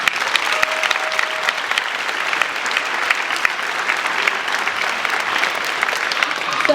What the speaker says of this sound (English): Big round of applause for all of the finalists